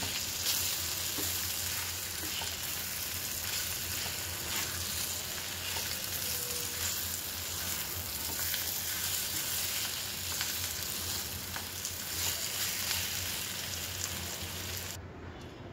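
Spiced potato slices frying in a pan while being stirred, a dense, steady sizzle running loud and close for the whole stretch, with the scrape of the stirring mixed in and no voices.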